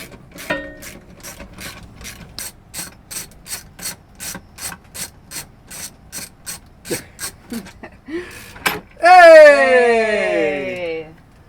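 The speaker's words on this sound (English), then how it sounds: "then you got to get some undo these 4 bolts" A ratchet undoing stainless steel bolts during sailboat repairs clicks in a steady, even rhythm of about twenty strokes. A brief squeaky, voice-like whine then rises loud at the end.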